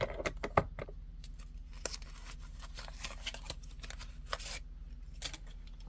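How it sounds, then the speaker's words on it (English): Scissors snip through material from an amigurumi crochet kit for a snowman, giving a few quiet, close clicks and cuts spread out over a soft background hiss. "So let's cut this up."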